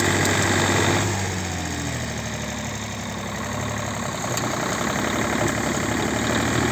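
A Takakita (Ogawa) SB1502E snow blower engine runs loudly and steadily nearby, a continuous throbbing mechanical drone that dips slightly after the first second and holds to the end.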